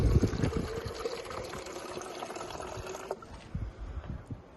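Water pours from an UltraSpout tank spout into a 24-ounce container at a water cooler, a fairly quiet gurgling stream for about three seconds that cuts off, followed by a few faint drips and handling sounds.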